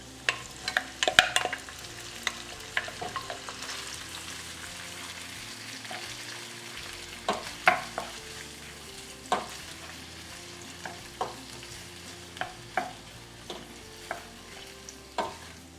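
Onions and chiles sautéing in a pan, a steady sizzle broken by repeated sharp clicks and scrapes of stirring, close and loud throughout.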